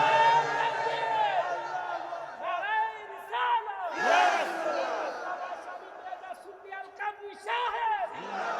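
A large crowd at a Shab-e-Barat religious sermon shouts takbir in loud, ringing unison, with repeated collective cries rising and falling over several seconds.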